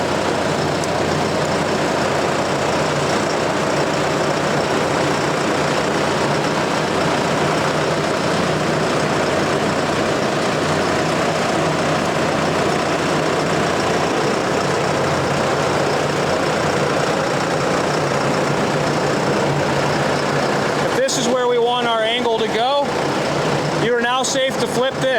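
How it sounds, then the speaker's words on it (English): The fan engine of a ventilation vehicle idles at 900 RPM in a steady, loud, close drone with low rumble, continuing unbroken until a brief shift in the sound near the end. "I would want to angle the fan in a correct spot to get air pressure, at 900 RPM"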